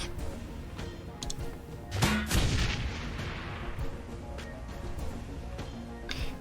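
Burst of gunfire in the Shadowrun: Hong Kong combat game, a heavy booming volley with a loud peak early on and then scattered crackling shots trailing off over a rumbling background.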